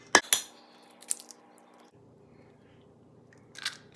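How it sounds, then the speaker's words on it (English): Eggs cracked one at a time into banana bread batter: two sharp, close cracks in quick succession, a softer tap a moment later, then a quiet mixing hum and a final crisp clink near the end. "And then we crack those eggs in there."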